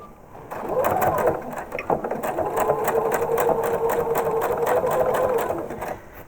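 A sewing machine runs steadily, stitching a facing strip onto a quilt top, a close, even mechanical whir of rapid needle strokes lasting several seconds after a brief start.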